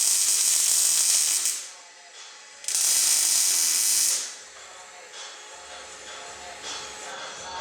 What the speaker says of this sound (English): So about there, and tack weld that on.